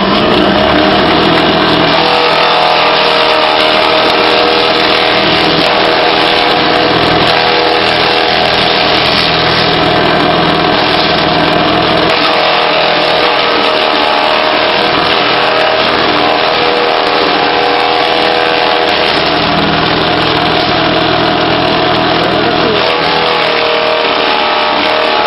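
A motorized grinding machine runs loud and constant at close range, giving a steady rough whirring drone with no pauses or talking.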